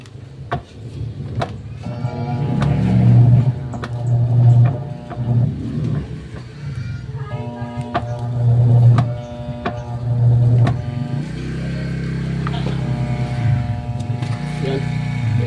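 A faulty washing machine motor strains and fails to keep running, giving uneven bursts of low hum that stop and restart over about fifteen seconds. Clicks and knocks sound near the machine, followed by a steadier drone near the end.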